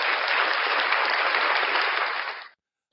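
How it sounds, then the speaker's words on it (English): A studio audience applauds a guest on a breakfast talk show, a dense uniform burst of clapping that holds steady, then fades and cuts off abruptly. "Ladies and gentlemen, round of applause for Miss Mandy."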